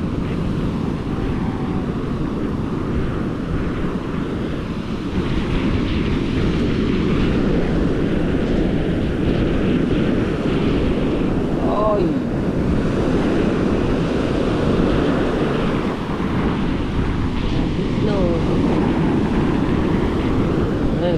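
Sea waves wash ashore at a river mouth on a beach with a steady, rumbling surf roar, while wind buffets the microphone throughout.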